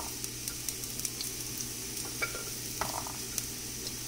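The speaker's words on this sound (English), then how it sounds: "add all the chopped vegetables to the pan. Now hear in the crackling sound, right?" Steady sizzling and crackling of vegetables frying in a hot pan, with faint scattered pops and light utensil clinks.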